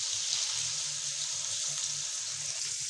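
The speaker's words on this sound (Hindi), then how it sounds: "अब मैं इसके अंदर पानी डाल रही हूँ" Water is poured into a cooking pot holding chicken and vegetables for Chinese biryani, giving a continuous hissing, sizzling rush at a steady close level for the whole stretch.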